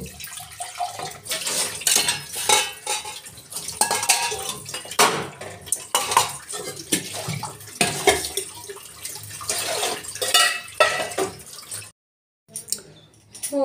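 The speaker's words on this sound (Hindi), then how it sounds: "चलिए फटाफट बर्तन धुल लेते हैं जल्दी से" Dishes, pots and utensils being washed in a home kitchen sink, with steady clattering of metal and cutlery against running water, close and continuous, briefly cutting out near the end.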